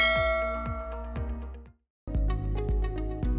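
A notification bell sound effect rings out as a run of bright, metallic dings with ringing overtones, then a short silence before a second, fuller set of chimes, loud and alone.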